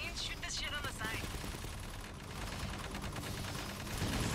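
Rapid gunfire from a video game, shooting at capacitors, keeps up continuous bursts of shots through the whole stretch, with voices talking over it.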